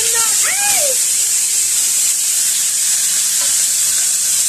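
Food sizzles steadily in a hot pan while vegetables are cooked at home, a constant bright hiss running under the whole stretch, with a couple of brief high voice-like sounds near the start.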